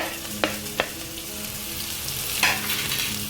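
Ginger, garlic, green chilli and finely chopped onion sautéing in a pan for a fried chicken curry, a steady close sizzle with a few sharp stirring clinks.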